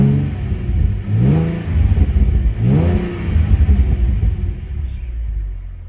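A 2016 Ford Mustang V6 engine revs up twice in deep, rumbling surges, loud and close, settling back to a throaty idle between them.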